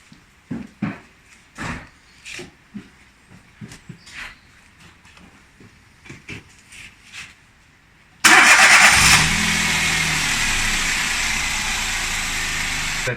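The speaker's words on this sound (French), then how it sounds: "je vais démarrer le véhicule pour remplir le filtre à huile." A Citroen C1 1.0 engine cranks and catches after a run of scattered clicks and knocks, then settles into a loud, steady close idle.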